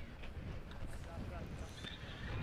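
Strong wind blows steadily across a hillside football ground during a women's match, a constant low buffeting rush over the microphone with faint voices in the background.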